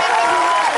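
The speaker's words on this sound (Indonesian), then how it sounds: "tepuk tangan dulu dong" Brief burst of studio audience applause on an Indonesian television game show, loud and dense, with cheering voices mixed into the clapping throughout.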